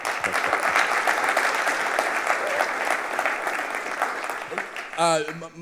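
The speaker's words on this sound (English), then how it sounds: "let's give him a round of applause just for being here tonight" An audience at the Boost VC Sci-Fi Accelerator talk applauds a guest, sustained loud clapping that fades slightly before a voice begins speaking at the end.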